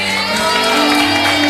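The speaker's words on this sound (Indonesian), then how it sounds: "Tepuk tangan dong." Studio audience of a television variety show cheering and clapping, a loud, dense crowd roar with shouts and a sustained tonal music-like layer underneath.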